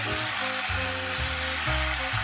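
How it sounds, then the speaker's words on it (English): Cabbage stir-fried with garlic and chilies in a pan for a spicy and sour Szechuan dish, a soft steady sizzle running beneath louder background music. "Then add the cabbage into the pan. Stir fry until the cabbage gets soft."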